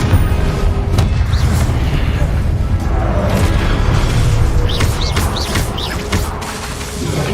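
Confringo and Incendio spell blasts go off in Hogwarts Legacy combat as repeated booming bursts and crashes, loud and continuous, with faint bird calls and game effects underneath.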